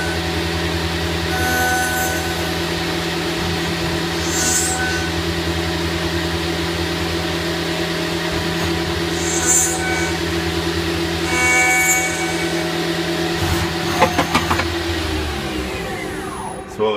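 A zirconium nitride coated end mill cuts slots in aluminum without coolant, giving a steady, loud machining drone with a continuous low hum and faint high whines, plus a few sharper clicks near the end.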